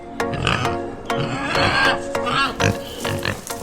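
Pigs on a small family-run farm grunting and oinking close by, a series of rough snorts and squeals overlapping one another with short pauses.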